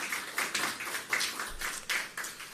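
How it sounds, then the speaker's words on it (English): Round of applause at a government media briefing on hurricane recovery, a modest, uneven burst of clapping from a small audience, moderately close, rising and falling in short swells. "the farmers deserve a big, big round of applause"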